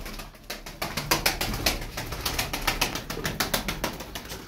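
A pigeon, part of a flock of female game birds, bursts into flight with a run of sharp, rhythmic wing claps close by, the flapping strong and repeated before easing off.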